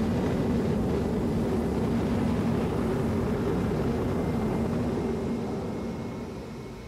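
A spaceship lifting off in the video game Star Citizen, a loud, steady engine roar that holds throughout and eases slightly near the end.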